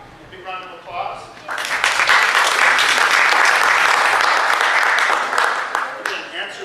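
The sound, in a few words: applause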